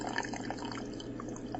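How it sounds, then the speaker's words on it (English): Water is poured into a thickening sauce for Harvard beets on a kitchen stove, a faint close trickle with light splashy drips over a low steady hum. "I'm going to go ahead and add some of the water"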